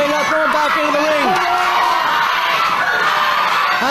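A 2005 wrestling crowd cheers loudly and steadily for Steve Mulligan during his match against Drew Galloway. Shouts and whoops rise from the close, continuous roar, and a commentator talks over it.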